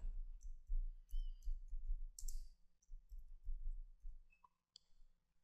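A computer mouse clicks sharply a few times at a desk, the clicks short and spaced apart over a low background rumble.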